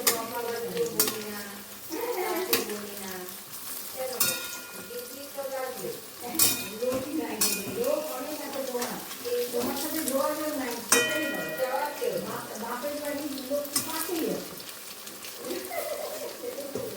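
Fish-oil fritters fry in a pan with a steady crackling sizzle, while a spatula scrapes and clinks against the metal again and again over about seventeen seconds.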